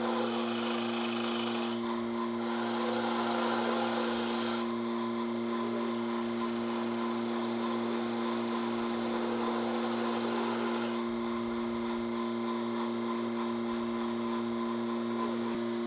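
A wooden bowl spins on a lathe held by a vacuum chuck while being sanded, giving a steady motor hum and pump drone with a hissing abrasive layer that swells and fades in sections.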